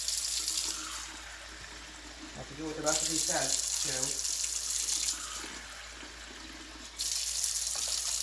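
Tap water runs into a vessel in steady bursts while measuring cups for lemon pudding, the pour pausing and resuming between a short spoken line from a nearby voice.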